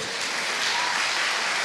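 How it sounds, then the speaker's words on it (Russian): A short burst of steady audience applause at a live early-music concert, dense and even clapping from a crowd, heard alone. "Можете ему похлопать."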